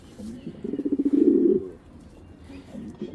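A racer pigeon gives a low, pulsing coo close by, rising to a louder rolling burst before fading into softer murmurs.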